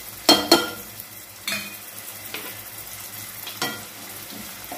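Green chillies frying in a pan for mushroom curry, a soft steady sizzle with several sharp clinks and scrapes of a utensil stirring against the pan.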